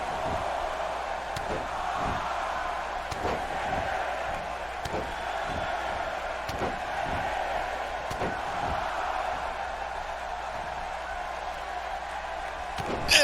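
Wrestling arena crowd with a capacity audience, rhythmic sharp thuds of repeated elbow drops at steady intervals over a constant dense crowd roar, likely chanting a count along.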